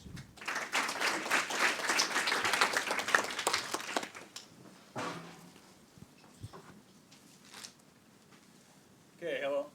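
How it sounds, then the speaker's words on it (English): A conference audience applauds for a speaker: dense clapping for about four seconds that quickly thins to a few scattered claps, followed by a quiet room and a brief voice at the end. "let's give a warm round of applause also for Lauri."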